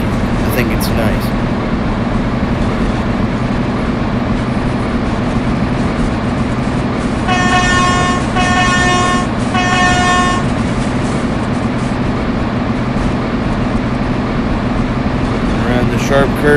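A Virgin Pendolino 390 electric train in a simulator game on Southern England track, a steady loud rolling rumble with a few short horn-like tonal blasts midway.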